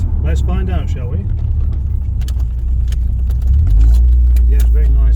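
Honda Prelude driving on the road, a low steady engine rumble that deepens and grows louder toward the end, heard under someone talking.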